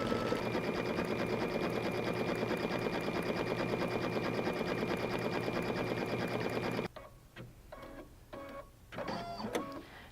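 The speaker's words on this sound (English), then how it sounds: "So let's go ahead and stitch this out." An embroidery machine stitches a patriotic puff foam design, a dense, steady mechanical whir with rapid needle rhythm running loud for about seven seconds, then stopping abruptly, leaving quieter intermittent clicks and handling sounds.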